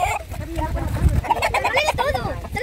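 Young chicks peep and cluck in short, high chirps close by, scattered through the moment and mixed with someone speaking softly in Spanish.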